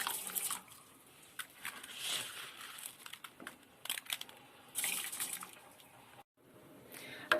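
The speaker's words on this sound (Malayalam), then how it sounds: "തയ്യാറാക്കി വെച്ച അരി ആഡ് ചെയ്ത് കൊടുക്കാം." Soaked rice for Hyderabadi dum biryani being tipped into a pot of boiling water, giving soft splashing and crinkling pours in bursts, with a brief pause near the end.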